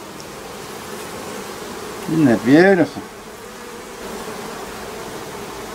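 Honeybees in an observation hive hum in a brief swelling buzz over a steady hissy background, with a person speaking softly nearby.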